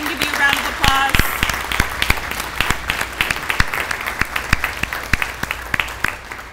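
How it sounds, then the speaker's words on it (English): A school dedication crowd applauds for a standing guest, a burst of clapping that thins into scattered, distinct claps as it fades, with a voice briefly over the start. "Would you please stand so we can give you a round of applause?"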